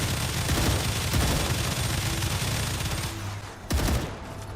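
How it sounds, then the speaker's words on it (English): Gunfire in the Star Rupture video game crackles as a dense, loud fusillade of rapid shots, followed by a single sharp bang near the end. "Something firing from way down there."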